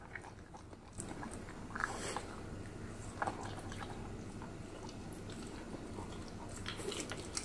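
A dog eating soba noodles chews close up, with soft wet munching and a few sharper bites and crunches over a quiet room background.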